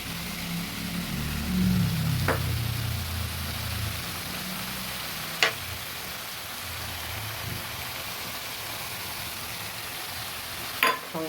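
Black and white mustard paste with green chilli goes into a hot pan with a brief hiss and sizzle, then settles into a faint steady frying crackle with a few sharp clinks.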